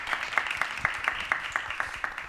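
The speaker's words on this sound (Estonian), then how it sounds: "Teeme ühe suure aplausi" Audience applause at a dance and cultural-policy café event, steady clapping from a crowd with regular sharp hand-claps standing out, moderately loud and continuous for the whole stretch.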